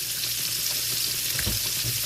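Fried green tomatoes sizzle in a frying pan, a steady, close crackling hiss of hot oil with occasional small pops, continuous and unaccompanied by talk.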